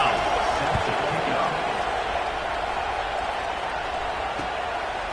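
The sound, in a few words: stadium crowd at a college football video game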